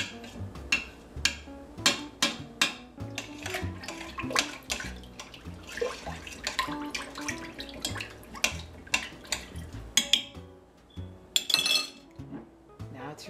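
Red lentil soup ingredients, including home-grown red chili and sweet potato, are stirred together in a bowl, producing repeated clinks and wet clattering knocks in an irregular rhythm at low volume.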